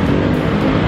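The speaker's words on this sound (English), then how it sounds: "Only the cars over here are making noise" Cars on a street in Bangkok, a close, loud, steady engine rumble of passing traffic with no voices.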